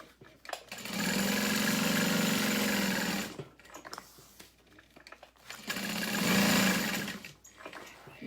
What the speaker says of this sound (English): I'm going to baste these pockets into place. We're just going to sew